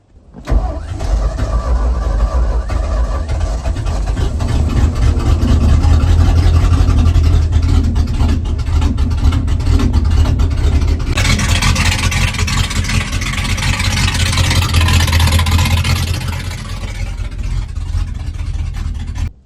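A 1978 Ford F250 engine that sat 30 years runs after revival, a loud close rumbling idle that holds steady for the whole stretch, rising slightly as the throttle is blipped partway through, with no talk.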